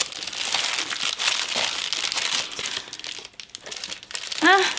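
Plastic packaging around clip-in fake bangs being crinkled and pulled open, a continuous close rustling and crumpling with a brief vocal sound at the end.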